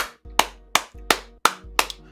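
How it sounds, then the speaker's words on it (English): Hand claps ring out about every third of a second, six sharp separate claps at close range, alone with no talking. "I want to give you a round of applause"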